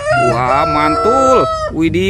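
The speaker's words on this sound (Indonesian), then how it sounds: "Ini ada ayam berkokok." Toy rooster crowing loudly and close, a drawn-out mechanical cock-a-doodle-doo with wavering pitch, followed by a short exclamation from a voice.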